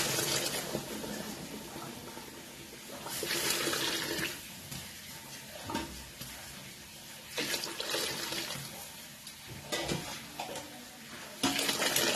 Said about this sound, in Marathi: त्याच्यामध्ये पाणी घालायचं गरम